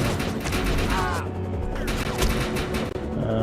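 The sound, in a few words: gunfire in Defiance 2050 video game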